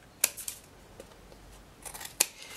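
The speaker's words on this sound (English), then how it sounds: "and then I'll just trim off the excess" Scissors snip excess paper on a Christmas card with snowflakes, a handful of crisp, close cuts spaced irregularly over a couple of seconds in a quiet room.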